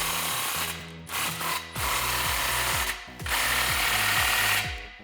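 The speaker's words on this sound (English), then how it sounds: "You'll need a 15 mil socket for these clamps," A ratchet with a 15 mm socket tightens exhaust clamps during a Roush single exhaust install on a 2011–2014 Ford F150 3.5L EcoBoost. It gives close, fast rhythmic clicking in several bursts with brief pauses between.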